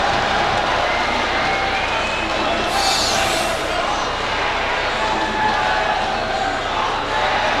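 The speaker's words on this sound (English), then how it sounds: "Crowd rises to its feet." Spectators at a 2003 high school all-American slam dunk contest rise to their feet, a loud sustained crowd roar with cheering swelling briefly in the middle, voices blending throughout.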